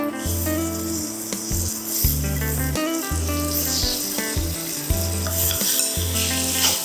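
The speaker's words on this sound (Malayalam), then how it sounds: "ലോ ഫ്ലെയിമിൽ ഇത് പൊരിച്ചെടുക്കുക" Eggs frying in coconut oil and masala in a pan over a low flame give a steady, continuous sizzle throughout, with rhythmic background music.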